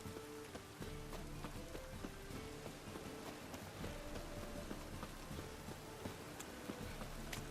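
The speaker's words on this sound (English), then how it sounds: "And it's raining again." Steady rain in The Witcher 3: Wild Hunt patters across surfaces, a dense hiss with scattered drips and soft taps, continuous and fairly quiet, with a faint low musical drone beneath.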